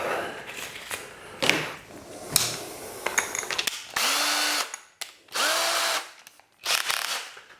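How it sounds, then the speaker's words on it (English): A power drill whines in several short bursts separated by pauses, close by, drilling holes while building a betta fish tank rack, with a few clanks and taps between runs. "let the drill do the work"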